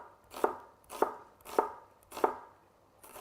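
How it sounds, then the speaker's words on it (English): Knife chopping an onion on a board, five evenly spaced crisp thuds about half a second apart, close and clear with no talking. "I'm going to chop an onion up"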